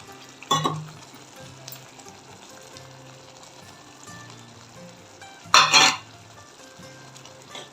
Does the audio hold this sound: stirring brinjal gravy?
yes